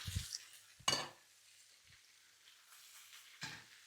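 Vegetables and pork being stirred together in a frying pan, with soft sizzling under a few scraping knocks of a utensil against the pan.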